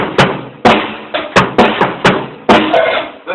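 A fast drum beat with sharp, punchy hits in a quick, uneven rhythm, each strike ringing briefly before the next.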